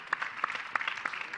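An audience applauds a panel at an ocean-action conference session, with fairly faint, evenly paced clapping heard from a distance.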